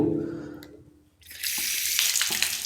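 A tap starts running and water splashes steadily as hands and arms are washed up to the elbows during wudu. A faint low hum comes before the flow, and the splashing is close and continuous.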